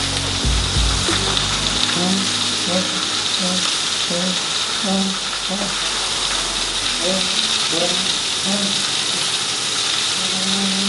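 Pork frying in a little oil in a pan over medium heat, a constant close sizzle with small pops and scraping as the meat is moved.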